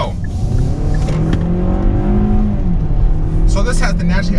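Engine of a 2020 Kia Sportage EX with a 2.4-liter naturally aspirated inline four, accelerating in sport mode, a steady rising drone heard from inside the cabin beneath someone talking.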